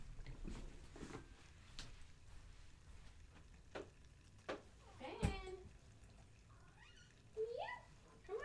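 A cat meows outside, wanting to come in: a few short, faint cries, one sharper call near the middle and another near the end, amid quiet household rustling and occasional soft talk.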